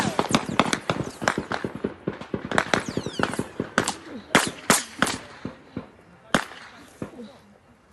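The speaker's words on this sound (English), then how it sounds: "The familiar sound of guns in the air, firing in the air" Guns fired into the air in Manipur crack out in a long irregular series of sharp reports, some loud and close, others fainter, with echoes trailing between shots.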